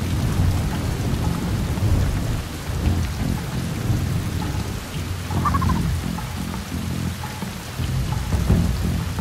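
Steady rain and rolling thunder fill a stormy outdoor scene in the stealth game Shadow Tactics: Blades of the Shogun, a continuous dense downpour with deep rumbles swelling and fading throughout, no voices.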